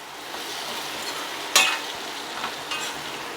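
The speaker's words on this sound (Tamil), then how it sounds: "இது கூட நம்ம வேக வச்சு உரித்து வச்சுருக்கிற உருளைக்கிழங்கு போட்டு நல்லா பரட்டுங்க." Boiled, peeled baby potatoes are stirred and fried in masala, with a constant close sizzle and one sharp scrape of a utensil partway through.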